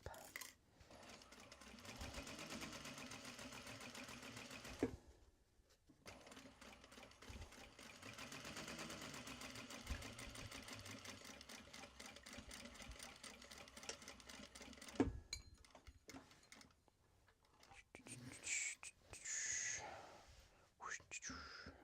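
A sewing machine stitches Japanese fabric in steady, close mechanical runs, pausing briefly between bursts, with soft handling noises and quiet talk in the gaps.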